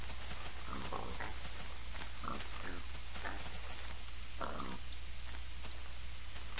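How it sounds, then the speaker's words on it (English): Pigs oink and grunt repeatedly in Minecraft, several short snorting calls scattered over a constant low hum, fairly close and with no talking. "Tons of baby pigs."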